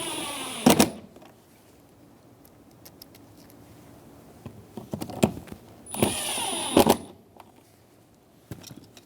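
Screws being driven in with a power driver to fit a front exterior door handle on a 2000–2007 Ford Focus, two short high whirring bursts with clicks and handling noises between them, close up.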